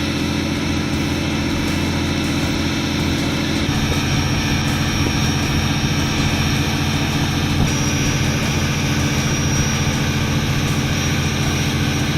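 An Indian Air Force MiG-21 Bison jet fighter on its final sortie, a loud, steady engine roar that fills the whole stretch without a break.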